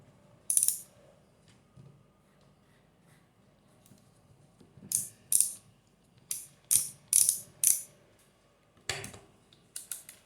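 A screw is driven through the hole in a small gear motor while a toy car is built, giving crisp ratcheting clicks in several short, close bursts separated by quiet gaps. No talking.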